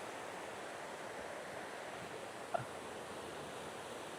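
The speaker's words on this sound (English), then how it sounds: "And then that stunning waterfall all the way up." A Madeira waterfall gives a steady broadband roar of falling water, constant and fairly distant, with a single faint knock partway through.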